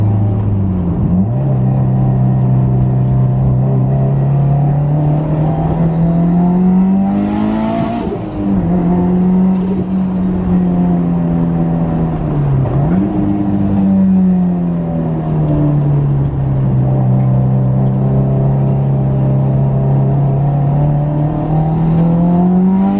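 A Subaru WRX with a big turbo, external wastegate and straight pipe revs loudly and close up, its engine note rising and falling through several sweeping pulls with a sharp burst of wastegate hiss partway through.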